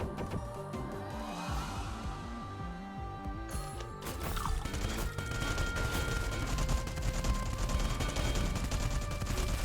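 Turrets firing during a boss fight in the Cinderia video game, producing dense, rapid mechanical clatter and rattling shots over a layered game soundtrack, with the volume building partway through.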